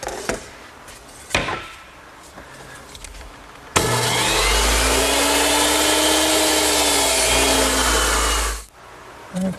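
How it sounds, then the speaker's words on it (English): A miter saw spins up and cuts across the end of a wooden rail for a Shaker two-drawer blanket chest, giving a loud, sustained whining roar for about five seconds before winding down. A few light knocks come before the cut. "Now I'll make a cut on one end of the rail."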